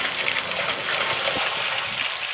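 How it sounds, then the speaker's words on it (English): Water flowing into a septic effluent tank from a house line after thawing a frozen septic system, a steady close gushing rush with no pauses. "we got water flow into the effluent tank"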